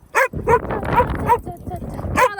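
A dog demand-barks, yipping in short, whiny bursts, close by and insistent, with brief pauses between the sounds.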